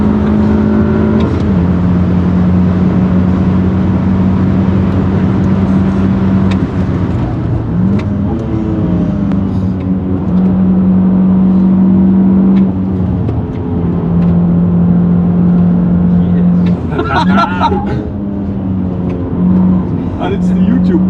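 A Project Clubsport race car on the Nürburgring accelerates hard with its exhaust valves open, a loud, sustained engine drone that climbs and drops through gear changes, with voices talking over it inside the car.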